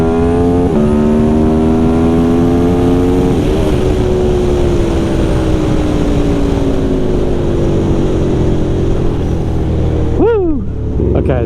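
A 2018 Aprilia RSV4 RR motorcycle engine revs up and down repeatedly, loud and close, with rising and falling whine-like pitch sweeps and a final sharp blip near the end.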